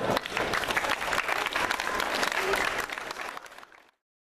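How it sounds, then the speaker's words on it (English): A large crowd at a school art exhibit applauds panelists steadily and loudly for several seconds, then the clapping fades out abruptly near the end. "a big round of applause for the panelists before you leave"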